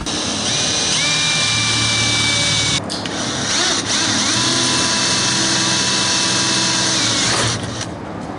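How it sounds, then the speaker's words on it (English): A power drill drives screws during an Apache build, whirring loudly and steadily in two long runs with a brief pause between them and a short break near the end. "get a few of these screws started, and then I'll finish it up"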